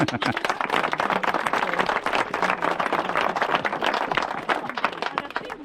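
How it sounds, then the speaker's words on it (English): A small outdoor group of runners at a forest parkrun claps for volunteers, with close, distinct individual claps forming a lively, uneven round of applause and a few voices mixed in. "I do want to give our volunteers a huge round of applause."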